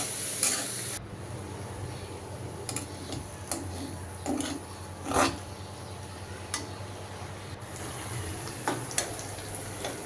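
A vegetable bhaji sizzles in a pan while being stirred, a soft continuous fry hiss broken by scattered utensil scrapes and clicks against the pan, close and quiet with no talk.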